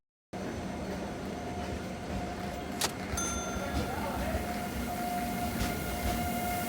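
A train rumbles steadily throughout, a low continuous roar with occasional metallic squeals and clicks, and no voices.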